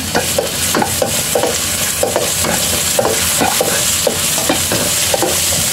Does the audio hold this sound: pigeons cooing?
no